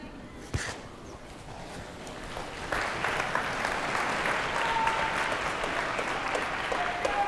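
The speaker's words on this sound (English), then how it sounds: "I think you can hear the applause." Applause from spectators at a junior curling championship in an arena, a sharp clap near the start, then a steady wash of clapping that swells and holds at moderate loudness until the end.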